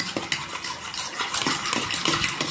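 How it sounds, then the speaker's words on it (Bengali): Strained yogurt whisked briskly in a bowl for dhaba-style chicken masala, quick rhythmic clinks and scrapes of the utensil against the bowl, close and steady. "দইটা একদম ভালো করে ফেটাতে হয়"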